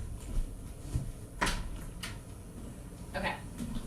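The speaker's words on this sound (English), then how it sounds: "I'm gonna go open my door." An indoor house door is opened, giving a few soft, close clunks and handling knocks over quiet room noise, with no talking.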